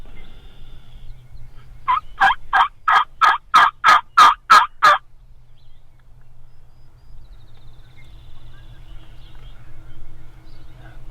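Wild turkeys, jakes and gobblers, heard outdoors during a hunt as a loud burst of about nine rapid, rhythmic gobbling clucks. Quiet, faint rustling follows as the birds run past.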